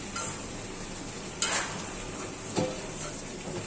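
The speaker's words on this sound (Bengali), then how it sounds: "চাইছিলাম না চুলায় বাগার দিব, কিন্তু এখন দিতেই হচ্ছে।" Onion tempering (baghar) frying in hot oil on a stove for mashed potato bharta, a continuous soft sizzle with two sharper crackling bursts.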